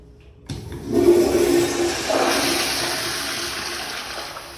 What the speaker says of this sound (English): Let me get a close-up flush.